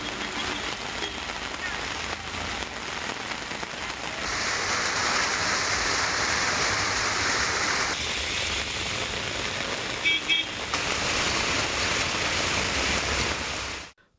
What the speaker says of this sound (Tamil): மதுரை மாவட்டம் கொட்டாம்பட்டி, கருக்காலங்குடி, தும்பைப்பட்டி உள்ளிட்ட இடங்களில் 1 மணி நேரத்திற்கு மேலாக கனமழை கொட்டி தீர்த்தது